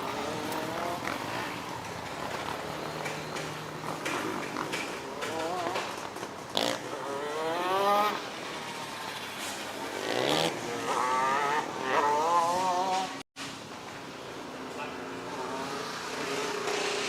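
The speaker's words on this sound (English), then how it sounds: "And look at the open carts out onto the racetrack." Micro sprint race cars roll out onto the Ohsweken Speedway dirt oval for a six-car A main, their engines rising and falling in repeated revving sweeps, loud and close, with some voice under the engine noise.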